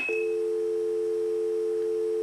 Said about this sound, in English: it will hear the dial tone